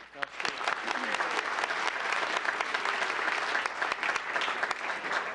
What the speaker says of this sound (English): Big round of applause for group 3.